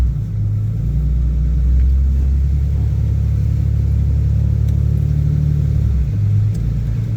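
A truck grinds through mud holes up a West Virginia holler, with a deep, continuous engine rumble that swells and eases as it pushes through, close and loud, with no talking.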